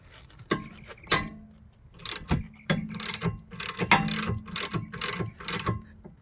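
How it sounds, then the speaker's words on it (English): A large hand ratchet loosens 14 mm caliper bracket bolts on a Hyundai Tucson's rear brakes, giving close, loud bursts of rapid clicking in irregular strokes with short pauses between them. "I'm going to use my bigger ratchet for this."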